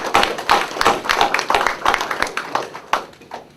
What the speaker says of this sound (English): I think you deserve a round of applause for those arrangements